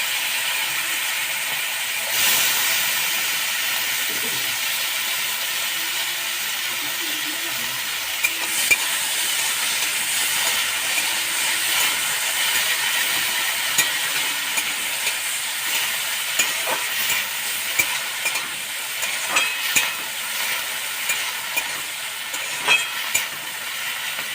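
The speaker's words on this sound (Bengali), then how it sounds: "আমি এবারে কুচো চিংড়ি মাছগুলোকে ভেজে নেব" Small shrimp, washed and rubbed with salt and turmeric, fry in a pan with a steady, fairly loud broadband sizzle that continues throughout, with occasional brief stirring clicks and scrapes.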